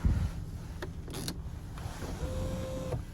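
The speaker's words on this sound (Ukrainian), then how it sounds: "Люк працює." A small electric motor whirs as a car sunroof slides open, a steady mechanical hum with light clicks and a faint creak.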